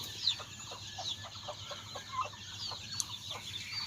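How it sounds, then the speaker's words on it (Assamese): American turkeys kept on a poultry farm in Assam, giving soft repeated clucks and gobbling calls at a low level over a constant background hum, with no voices. "ইয়া হৈছে টাৰ্কি মুৰ্গী, এইটো আমেৰিকান টাৰ্কি বুলি কয়"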